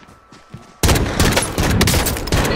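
Rapid loud gunfire erupts in Warzone after a quieter lead-in, a dense barrage of close automatic shots filling the rest of the moment with no talk over it.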